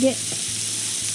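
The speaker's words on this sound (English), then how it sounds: "I was frying the onions till they" Onions frying in bacon grease while cooking a Christmas dinner give a steady, close hiss and crackle, with a short spoken word at the start.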